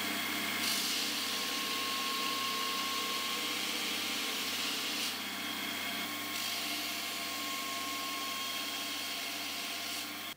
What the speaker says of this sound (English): I took a quick pass on the belt grinder because it was taking way too long